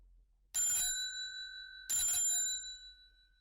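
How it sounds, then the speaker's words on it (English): A bright electronic chime rings twice in quick succession, each tone clear and ringing out briefly before fading, with quiet in between. "Then suddenly she ran across the road and rang Holmes's doorbell"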